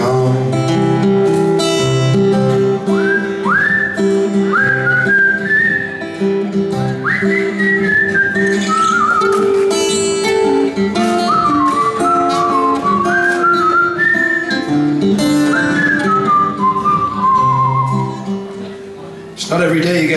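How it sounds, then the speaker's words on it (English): Live whistling solo at a concert in Tilburg, a melodic whistled line sliding between notes over loud, sustained band accompaniment throughout. "Not every day you get two whistling solos in one show these days"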